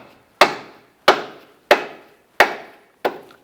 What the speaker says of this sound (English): go ahead and bonk the control arm